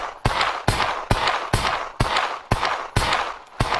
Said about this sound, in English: basically when you fire, the gun moves up and to the right.